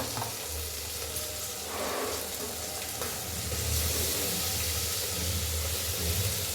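Plenty of garlic and a little ginger sautéing in a pan, a steady hissing sizzle that swells louder partway through, close by and unaccompanied by speech.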